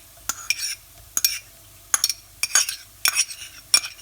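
Garlic stirred into a hot pan of sautéed onions with a utensil, a series of close, bright scraping and clinking stirs in irregular bursts over a faint sizzle.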